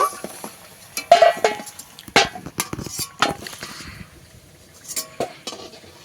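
A spatula scrapes and clinks against a pan of semolina gujiya frying in ghee, in irregular bursts with quieter gaps between stirs; no voices.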